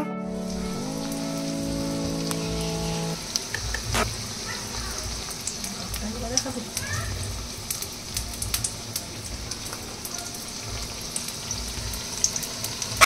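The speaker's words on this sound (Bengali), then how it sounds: "এগুলো ভেজে নিই এক এক করে সব কটা" Bora fritters frying one by one in a pan of oil, a steady sizzling crackle with scattered pops. A tonal hum sounds briefly at the start, with faint kitchen clatter behind.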